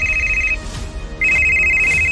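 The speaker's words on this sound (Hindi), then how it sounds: "2 रिंग के बाद ज्योति के पापा ने फोन उठाया" A telephone rings in two bursts of steady electronic tone separated by a short pause, close and clear with no voices over it.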